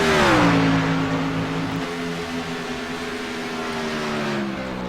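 A race car circling at the rear of the field, its engine droning steadily with a falling pitch early on and then holding a rough, even tone throughout.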